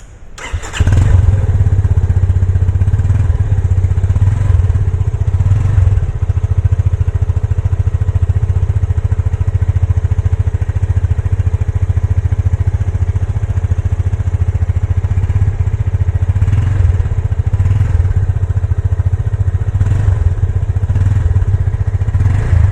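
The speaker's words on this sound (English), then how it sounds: "This rumbling exhaust note at higher RPMs will surely make us excited." A Yamaha FZS 25 BS6 motorcycle engine starts and then idles with a loud, deep rumbling exhaust, holding steady with occasional small revs, close by and continuous.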